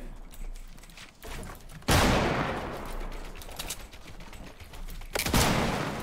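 Gunfire in Fortnite Battle Royale: bursts of shots, with loud volleys at about two and five seconds against a dense crackle of weapon fire and action around them. No one speaks.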